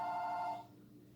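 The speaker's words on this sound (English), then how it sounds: "Sorry, my phone's ringing." A phone rings with a steady, fairly loud electronic tone that holds for about half a second and then cuts off, leaving a quiet room.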